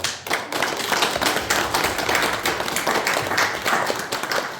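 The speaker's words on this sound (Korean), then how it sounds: "일어나셔서 저희가 격려의 박수를 해주시면 좋겠습니다" Standing applause of encouragement at a gathering on Korean reunification; close, steady clapping from a small group of people, with distinct individual claps audible throughout.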